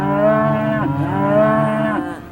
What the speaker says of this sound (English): a herd of cows